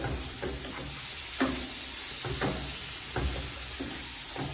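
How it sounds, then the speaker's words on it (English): Steady sizzling from meat and peppers sautéing in a pan with occasional stirring scrapes, close and moderately quiet, no voices. "Now let's go ahead and work that meat in with those peppers."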